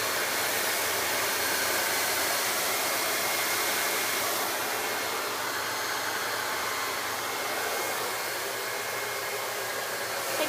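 A hair dryer blows steadily and loudly while a small section of hair is dried, its airflow roaring without a break and no voices over it.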